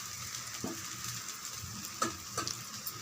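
An egg dosa frying on a hot pan gives a steady, close, mid-level sizzle with a couple of brief clicks or scrapes, and no voices.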